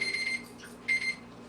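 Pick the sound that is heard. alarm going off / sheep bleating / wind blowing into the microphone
alarm going off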